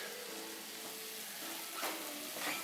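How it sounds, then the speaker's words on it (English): Shrimp with a tablespoon of chopped garlic frying over medium heat, a steady soft sizzle with faint scraping as the pan is stirred and the shrimp turned. "Just turning, stirring and turning."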